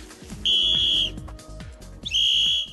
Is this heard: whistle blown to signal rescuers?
yes